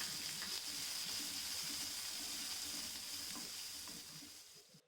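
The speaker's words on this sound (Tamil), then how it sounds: "இந்த ஸ்டேஜில் நம்ம வெட்டி வச்சுருக்க பெரிய வெங்காயத்தையும் சேர்த்து நல்லா வதக்கி விட்டுக்கலாம்." Chopped big onions sauté in a pan for a bitter gourd and tamarind curry, giving a steady, close sizzle that holds evenly for several seconds before easing off, with no voices.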